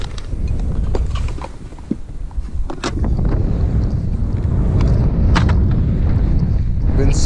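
Steady wind buffeting the microphone with a loud low roar throughout, in snow beside a Piaggio scooter, plus scattered clicks and knocks.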